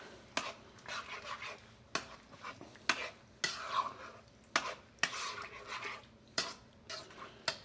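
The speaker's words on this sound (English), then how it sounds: "Let me stir that up" Garlic powder stirred into food cooking in a pan, a spoon scraping and clinking against the pot in repeated strokes roughly every second, close and fairly quiet with soft background sizzle.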